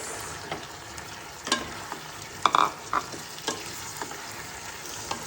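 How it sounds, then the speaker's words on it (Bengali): Fried shrimp being stirred into tomato sauce in a pan, with a soft sizzle under repeated scraping and clinking strokes of the spoon at irregular intervals, close by. "আর এই সময় দিয়ে দিলাম একবারে টমেটো সস, বেশ খানিকটা দেবো। সসগুলো সব দিয়ে দিয়েছি। এখানে এই যে ভাজা চিংড়ি মাছগুলো দিয়ে দিলাম"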